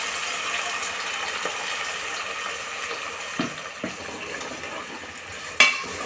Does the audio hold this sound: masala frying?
yes